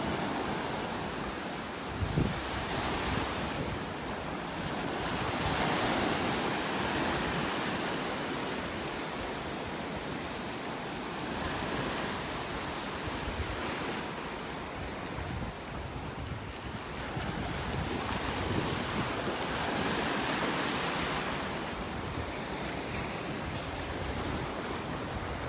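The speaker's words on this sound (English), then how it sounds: "Listen, you'll hear the waves hitting that barge." Ocean surf on a Gulf beach at Delnor-Wiggins in North Naples, Florida, breaking against a barge on a morning shoreline: a continuous, thunderous wash of waves with steady wind rumble on the microphone and no voices.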